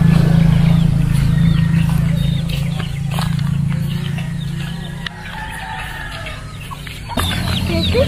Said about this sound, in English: There's animals, guys, with ducks, chickens,